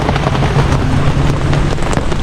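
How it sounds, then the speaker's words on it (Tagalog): Heavy rain falls outside in a loud, dense, unbroken roar that fills the whole moment. "Ulan."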